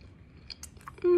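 A quick mouthful of a crawfish burger being chewed up close, soft wet crunchy bites over about a second, ending in a sudden loud tonal burst.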